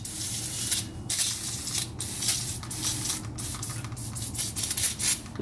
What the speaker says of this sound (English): just kind of spraying brake cleaner